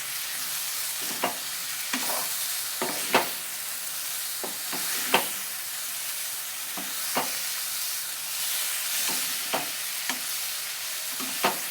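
Onions fry in a hot pan while a spatula stirs them. Sharp scraping clacks come every second or so over a steady close sizzle, with no talking.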